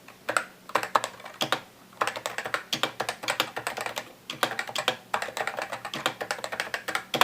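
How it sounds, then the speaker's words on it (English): Typing on a Novatouch TKL Topre keyboard produces rapid, close, muffled keystrokes in continuous bursts with brief pauses between runs, and no one speaks. "So this is the Novatouch TKL Topre board, and here is the typing portion."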